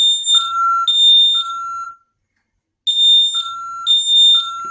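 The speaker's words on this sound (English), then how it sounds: "it's doing, of course, temporal 3 for fire alarm" An ADT SafeWatch Pro 3000 fire alarm sounds a temporal 3 pattern, with three loud electronic tones, a pause, then the next set of tones beginning, close and clear.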